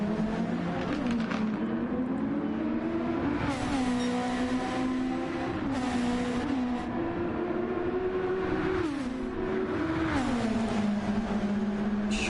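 Racing car engines in Gran Turismo 7, a Porsche among them, droning loud and steady throughout, the pitch rising and falling through gear changes and revs with no talk.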